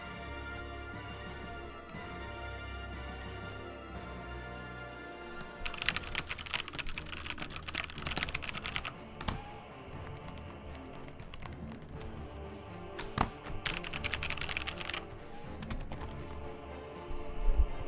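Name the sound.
typing on a computer keyboard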